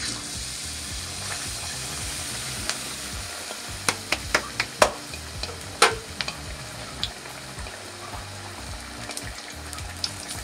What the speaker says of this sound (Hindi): सो अब हामी यसलाई चाहिँ हामी तातो तेलमा फ्राई गर्छौँ.